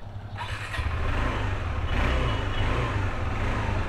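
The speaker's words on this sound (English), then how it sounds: "Let's crank this engine up." An Adventure X motorcycle engine is started and revved, a steady low rumble that climbs in pitch as the throttle opens and then holds loud and close throughout.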